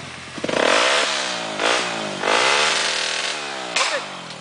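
A dirt motorcycle on a trail revs hard several times, its engine climbing and falling in pitch in loud bursts close by, with no talk over it.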